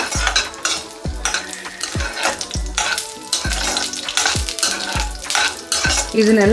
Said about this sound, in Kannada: ಇದೇ ರೀತಿ ಲೋ ಫ್ಲೇಮಲ್ಲೇ ತುಪ್ಪದಲ್ಲೇ ಹುರ್ಕೊಳ್ಳೋಣ